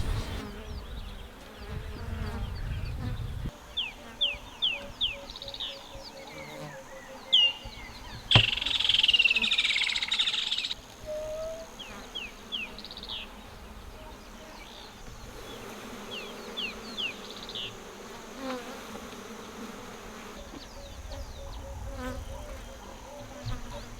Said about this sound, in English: you could just hear a swarm of thousands of flies take off